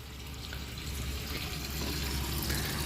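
A Glacier Bay toilet tank refills with water in a steady, continuous rushing hiss that grows slightly louder and fuller as it goes, heard close up with no talking.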